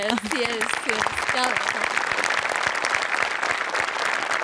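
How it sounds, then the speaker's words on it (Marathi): Studio audience at a Marathi comedy show, Maharashtrachi Hasyajatra, breaks into sustained, dense applause that fills the whole stretch, with a voice speaking briefly at the start. "सो आर्ट डिपार्टमेंटसाठी एकदा जोरदार टाळ्या."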